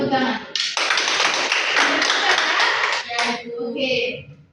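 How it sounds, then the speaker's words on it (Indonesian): A class of children clapping their hands together in a classroom, a loud dense burst of close clapping for a few seconds, with children's voices rising around it and trailing off. "Tepuk tangan."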